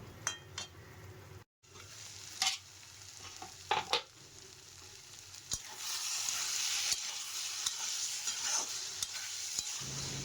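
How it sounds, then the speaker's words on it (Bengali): Spice paste for paneer curry stirred and frying in a pan: a steady close sizzle with scattered spoon scrapes and clinks, growing more even toward the end, with no voices. "এই মশলাগুলোকে আমি কিছুক্ষণ নাড়িয়ে তারপরে ঢেকে দিব আর আঁচটা কমিয়ে দিব যেন ভালো মতন এটা কষে যায়"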